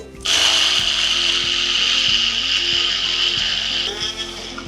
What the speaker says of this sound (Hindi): अब इसको मैं अच्छे से ब्लेंडर में हम इसको ब्लेंड करेंगे।